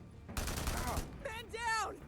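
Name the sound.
gunfire in the video game Days Gone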